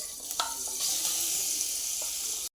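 Ground masala paste hits hot oil in a pan and sizzles steadily and loudly up close, with a few stirring scrapes, until it cuts off abruptly.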